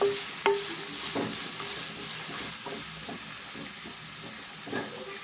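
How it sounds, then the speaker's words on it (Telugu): Onions and green chillies frying in hot oil, giving a continuous close sizzle and hiss, with a few scattered stirring scrapes and pops over it. "ఇప్పుడు దీంట్లో మనం ఉల్లిపాయ పచ్చిమిర్చి వేసేద్దామండి ఇవి బాగా ఫ్రై అవ్వాలి"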